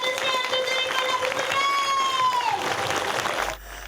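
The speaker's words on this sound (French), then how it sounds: "Veuillez faire un tonnerre d'applaudissements pour les élèves de CM2 de l'école" Audience applause with crowd noise for a school show by CM2 primary pupils, steady and fairly loud, with a tonal voice or music line running over it, cut off abruptly near the end.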